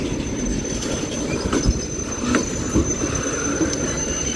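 A Union Pacific mixed freight train crawls past slowly, a steady low rumble of railcars with faint wheel squeal and a few clanks, a thin high whine running throughout.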